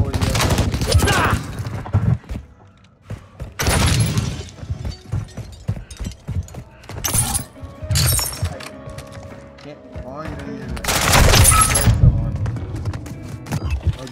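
Bursts of M4 rifle fire from the Call of Duty Modern Warfare II Warzone video game, several loud rapid volleys with quieter gameplay sounds between them.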